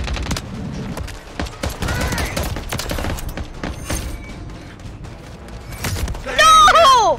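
Rapid bursts of automatic gunfire from a shooter video game, loud and dense across the clip, mixed with game effects and a sharp burst near the end, with players talking over it.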